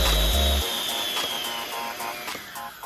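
Electric mixer whipping cream for a Polish Karpatka mountain cream cake, a steady motorized whir with a slowly falling pitch after a short thump at the start, close and loud, no talking.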